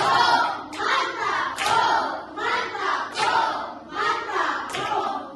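A classroom of students claps the rhythmic "tepuk mantap" chant in unison, repeated sharp group claps in a steady pattern mixed with shouted voices of children.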